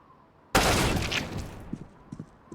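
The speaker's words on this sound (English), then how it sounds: "Oh, nice shot from Ethan." Gunfire in a competitive CS:GO match on the Nuke map, a sudden loud burst of shots that decays over about a second, followed by faint scattered clicks and thuds.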